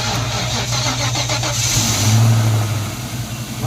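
A 1994 GT convertible being started after a jump: a steady mid-pitched engine drone that swells briefly as it catches and revs, loud and close, with no voices.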